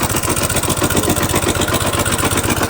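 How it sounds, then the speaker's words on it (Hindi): A motorcycle engine held at full throttle, from a bike with a pickup problem, gives a loud, steady, close-up drone with a fast pulsing beat and no pauses. "हमने ये जो है एक्सीलरेटर यहाँ पे फुल लेकर रखे हैं और इसका इंजन का साउंड सुनिए"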